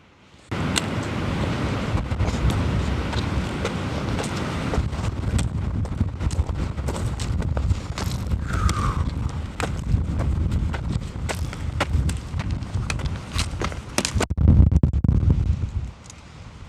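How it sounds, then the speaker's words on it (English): Steady rumbling wind buffets the microphone, broad and loud throughout, with scattered clicks and knocks layered on top. "It's hard to record with all this wind"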